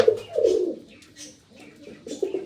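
Pigeons in a Punjabi breeder's loft coo in a few close, throaty low phrases, rising and fading in short rolling bursts with quiet gaps between.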